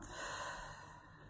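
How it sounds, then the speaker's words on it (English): A deep breath drawn in and let out during a guided tapping exercise for stress and anxiety, soft and airy, one slow quiet inhale easing into the exhale. "we're going to just take 2 breaths. So it's breathing in and washing it out."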